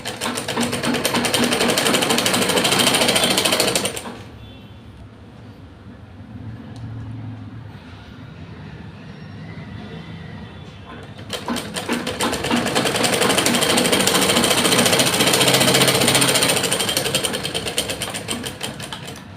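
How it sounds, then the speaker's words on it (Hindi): An electric sewing machine runs loud and close, stitching lining onto the sides of pant fabric with a half-inch seam, a steady fast whir for several seconds, a quieter pause, then a second long stitching run. "आप साइड दोनों तरफ के पार्ट को रखेंगे और उस पर हाफ इंच की सिलाई लगाएंगे"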